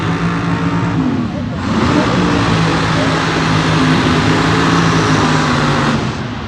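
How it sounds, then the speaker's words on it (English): A large drag racing car does a burnout at a supercharged drag event at MIR: a loud, sustained engine drone bursts into a harsh, roaring tire spin that holds at full volume. "With the burnout, hold your ears."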